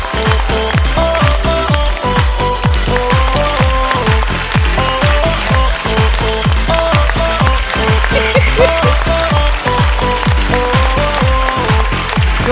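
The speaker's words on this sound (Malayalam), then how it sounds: "കയ്യടി പോരാ" Audience clapping at a stage show, loud, dense and continuous, with a rhythmic beat-like pattern running through it and no talking over it.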